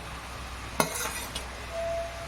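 A spoon scrapes and clinks against a pot while vegetable biryani rice is mixed, one sharp metallic knock followed by soft stirring rustles, close and quiet with no talk.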